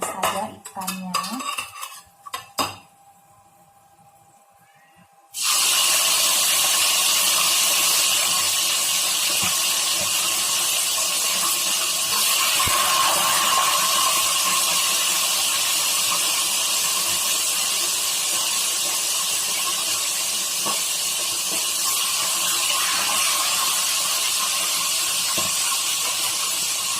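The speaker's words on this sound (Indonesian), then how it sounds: "kita langsung goreng saja ikannya." Kerisi fish frying in hot oil for sambal ikan kerisi, a loud steady sizzle and hiss that bursts in after a few seconds of clinking and stays dense and close to the end.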